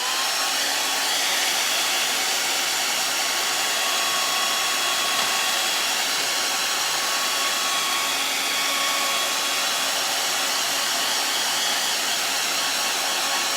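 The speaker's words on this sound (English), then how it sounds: "now let's blow dry it" Hair dryer blowing on freshly painted door hanger artwork, a loud, steady, close whoosh that runs unchanged throughout, with no talking.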